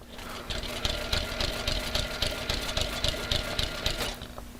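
A Slickbald Class 4 stitching machine runs a short test with the thread tails held under tension, giving a steady rapid mechanical chatter of regular stitch beats, close and fairly loud, with no talking.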